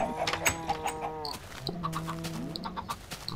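Chickens in Minecraft cluck in short, repeated bursts, several birds overlapping nearby in a quiet setting.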